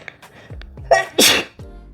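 A single sharp human sneeze with a quick inhaled build-up and an explosive burst, close and loud, alone without speech, indoors while packing a travel backpack.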